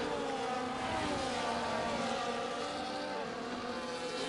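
An F1 24 race car accelerates at the Monaco Grand Prix, its engine a loud, continuous high-revving whine that climbs steadily through the gears.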